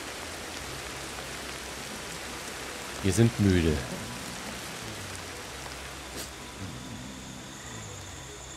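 Steady rain hisses at night in the prehistoric survival game Ancestors: The Humankind Odyssey, a constant wash of falling drops throughout, briefly joined by someone speaking over it.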